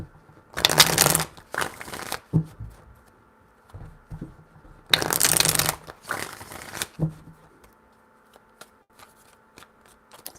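Tarot cards are shuffled in two quick riffling bursts, each followed by shorter flicks and taps as the deck is squared. The sound is close and crisp, with quiet gaps in between.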